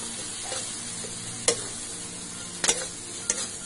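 Jackfruit coated in coriander, turmeric, pepper and cumin powders is stir-fried in a pan: a soft steady sizzle broken by three sharp spoon scrapes against the metal, no one talking.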